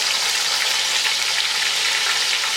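Ground onion fries in hot oil, giving a loud, dense, continuous sizzle close up with no pauses.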